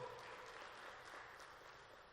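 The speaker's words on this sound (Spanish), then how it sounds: "Aplauso para Paraguay" An audience at a panel session on Ibero-American cooperation applauds, faint and distant, an even, continuous patter of many hands with no voices over it.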